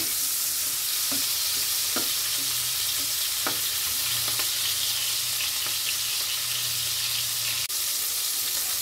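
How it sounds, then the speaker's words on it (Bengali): Prawns stirred and fried in a pan until lightly reddened, a constant loud sizzle with scattered spatula scrapes and knocks against the pan, close up with no voices. "চিংড়ি মাছগুলো আমি হালকা লাল করে ভেজে নেব।"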